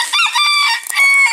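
Hens in a farmyard crowding around someone, giving a brief, close, continuous burst of clucking and crowing-like calls.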